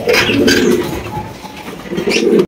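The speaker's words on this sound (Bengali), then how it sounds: "আছে এক জোড়া ব্ল্যাক বাগদাদি কবুতর, একদম বিশাল সাইজের ভাই।" A pair of large black Baghdadi pigeons coo in low, repeated throaty calls close to the listener, with some faint higher chirps and no speech.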